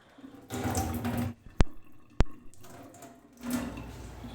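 Water runs from a tap into a sink in a two-bedroom house, in two bursts of gushing flow. Between them are a pair of sharp clicks, then the stream returns briefly, close by and without speech.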